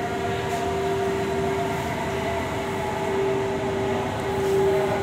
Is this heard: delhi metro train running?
yes